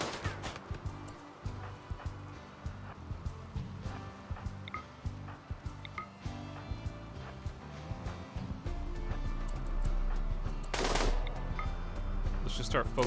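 Gunfire crackles through a video game battle in repeated bursts and volleys, with a dense loud stretch near the end, while players talk over the action.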